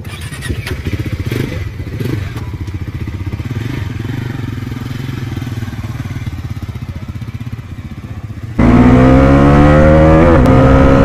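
Bajaj Pulsar NS 400Z motorcycle with a 373cc single-cylinder liquid-cooled engine at a launch event in Guwahati, idling with a loud, steady thrum before abruptly revving up into a louder, rising engine roar near the end.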